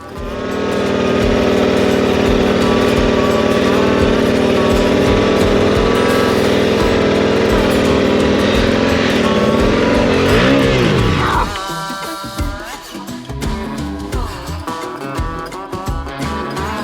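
A motorcycle engine revs hard and steadily for about ten seconds as its seven-year-old TKC 80 tire spins stuck in beach sand. Then the revs drop and the engine falls to a rough, uneven idle.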